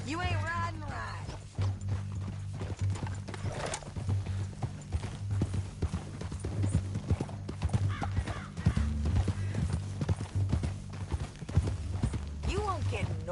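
Steady clip-clop of horse hooves at a riding pace in Red Dead Redemption 2, running through the whole stretch under a low music-like drone, with a few faint voices and a brief whinny-like call.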